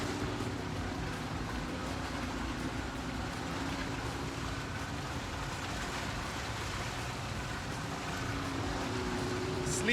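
A small boat motors across open sea at about five knots, its engine droning in a steady low rumble mixed with wind and water wash, constant and moderately distant.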